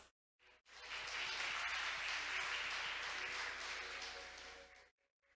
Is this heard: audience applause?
yes